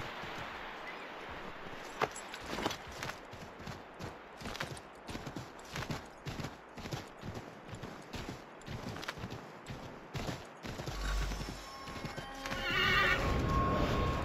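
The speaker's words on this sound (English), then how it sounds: "Where's my horse?" A horse whinnies amid steady clip-clopping hooves in the video game Assassin's Creed 3 Remastered, close and fairly loud, with a brief rumble and rising ambient noise toward the end.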